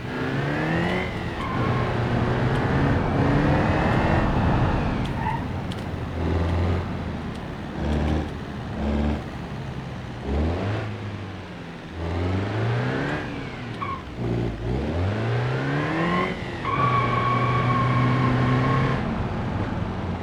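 A diesel 1.9 TDI manual car driven in BeamNG.drive, its engine revving up and dropping back repeatedly through gear changes, loud and continuous over twenty seconds with no talking.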